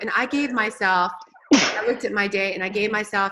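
A man's single sharp sneeze bursts out during a brief pause in his steady talk, then the speech resumes right after.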